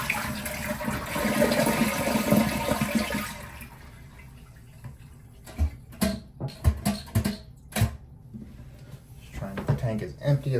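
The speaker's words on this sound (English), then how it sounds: "I'm gonna go ahead and flush the toilet to empty the tank" A toilet flushing with its water supply shut off, draining the tank in a loud rushing gush that fades after a few seconds, followed by clunks and handling knocks near the bowl, with a voice heard briefly.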